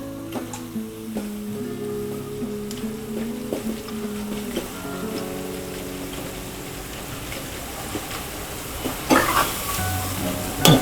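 Mung pakoda batter fritters sizzle steadily in hot oil, a soft continuous crackle with light spatters and occasional stirring clinks near the end. Quiet background music plays underneath.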